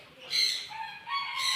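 Birds at the Silsila Park aviary give two bright, high chirping calls close by, each lasting a fraction of a second with a short gap between.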